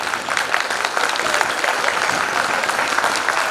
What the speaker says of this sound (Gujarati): વધારે તાળીઓના ગડગડાટ સાથે